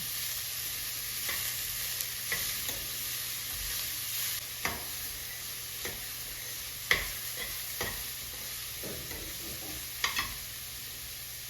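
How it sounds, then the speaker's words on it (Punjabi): Cauliflower roasts in a pan on a gas stove for gobhi parathas, with a soft steady sizzle and occasional sharp scraping stirs of a spatula, close and fairly quiet. "ਗੋਭੀ ਨੂੰ ਆਪਾਂ 2-3 ਮਿੰਟ ਤੱਕ ਹੀ ਭੁੰਨਾਂਗੇ"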